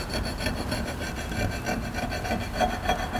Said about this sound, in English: I'm gonna hand file that.